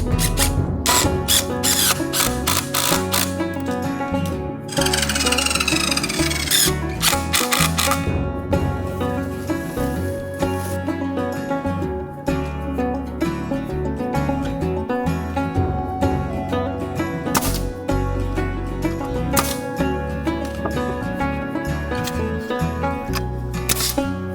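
An impact driver drives screws while insulating an outhouse at an off-grid cabin, sounding as dense, loud rapid clicking and hammering bursts that repeat through the whole stretch, with brief pauses between runs and no talk.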